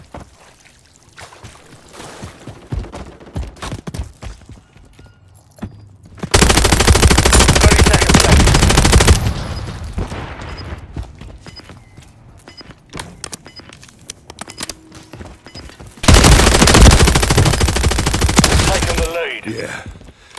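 Sustained automatic gunfire from Modern Warfare 3 on the Favela map, two long loud bursts of several seconds each separated by quieter game ambience and scattered shots.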